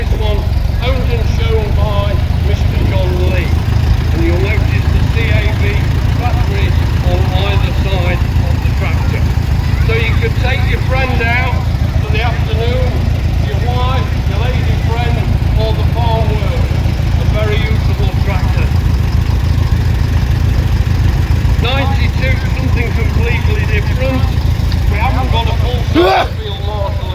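Renault tractor engine running in a tractor parade at an agricultural show, a steady low rumble heard throughout beneath a commentator's continuous talk, with a brief knock near the end.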